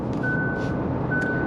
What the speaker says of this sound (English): it's beeping and it's telling me to keep hands on steering wheel